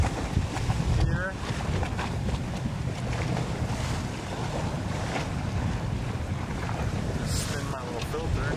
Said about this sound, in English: Wind is well down. We're down to about 10 to 12 knots.